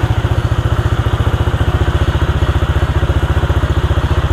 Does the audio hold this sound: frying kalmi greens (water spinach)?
no